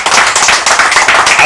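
Church congregation clapping along in steady rhythmic bursts, close and loud, with voices mixed into the dense clapping.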